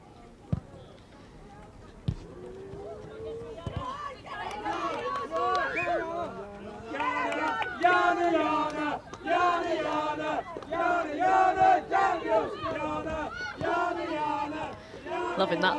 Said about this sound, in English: Good songs from the Bristol City crowd here.